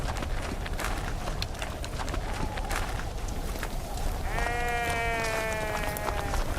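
Sheep bleat over a constant rustle of the flock and hoof movement, with one long, clear, wavering bleat close by near the end.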